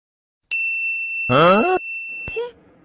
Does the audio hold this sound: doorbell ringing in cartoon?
yes